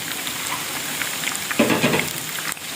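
Spices, green chillies and ginger sizzle in hot oil for a chole tadka, a constant crackling fry that briefly swells louder as it is stirred.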